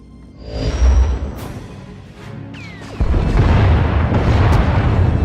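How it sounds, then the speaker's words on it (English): Starship weapons fire in Star Wars: The Old Republic, turbolaser blasts and missile launches booming and crashing in loud sustained bursts, with swooping whistles and a dense continuous roar building toward the end. "Enemy is firing. Turbo lasers, missiles, and what looks like transport pods."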